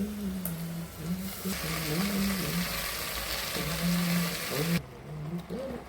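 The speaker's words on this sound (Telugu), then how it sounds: "ఇప్పుడు ఇందులోనే తరిగి పెట్టుకున్న ఈ ఆకుకూర కూడా వేసేద్దాం." Chopped amaranth leaves and onions sizzle steadily in a pan as they fry, with a voice talking over the constant hiss.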